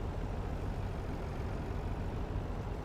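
A truck engine in the video game Farming Simulator 19 drones at a steady low rumble, idling or crawling slowly with no change in pitch, heard alone without talk.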